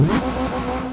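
Honda Civic engine in the Assetto Corsa racing game revving at a steady high pitch for about a second, with a brief surge at the start, loud and close with no talk.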